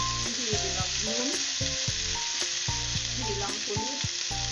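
Raw pumpkin pieces sizzle in a frying pan with a constant bright hiss up close, while melodic tones drift along underneath.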